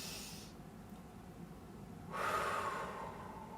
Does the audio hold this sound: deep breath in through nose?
yes